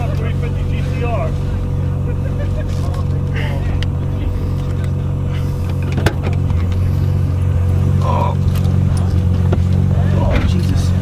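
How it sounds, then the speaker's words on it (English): Nissan Skyline R33 GTR V Spec engine on a street drive, a loud steady low rumble throughout the interior, with people talking over it. "Well, it's an R33 GTR."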